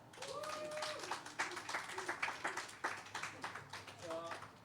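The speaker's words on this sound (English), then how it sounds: "And a round of applause for Robert Waldner." A small outdoor open mic audience on a city street claps in a faint, scattered round of applause, with voices talking over it.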